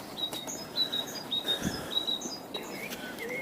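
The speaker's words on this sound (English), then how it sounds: "Birds are singing." Birds sing outdoors during a walk: thin, high chirps and short whistled phrases repeat at a moderate distance over faint outdoor background noise.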